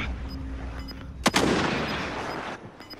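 A single sharp gunshot in Call of Duty Warzone cracks out close and loud, followed by a rumbling echo tail that slowly fades.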